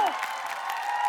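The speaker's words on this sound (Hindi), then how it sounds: "जोरदार तालियां।" Steady applause and cheering from a studio audience at a Hindi comedy entertainment show, dense and continuous across the whole moment with a faint tonal whistle near the start and end.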